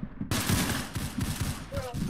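Rapid bursts of gunfire from the Roblox shooter game Arsenal, dense and loud, run almost continuously after a quiet first moment.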